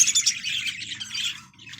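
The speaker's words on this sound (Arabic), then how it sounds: "عصافير استرالي الإنتاج الأول للبيع" Australian budgerigars for sale chirp and tweet in a busy, continuous chatter, the bright calls close and fairly loud, with a low background rumble underneath.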